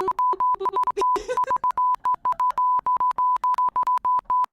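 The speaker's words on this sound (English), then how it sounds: "I like my bleep button." Rapid censor bleeps from a bleep button, a steady pure tone chopped into many short, loud beeps in a stuttering, Morse-like rhythm. Brief bits of voice come through between and under the bleeps.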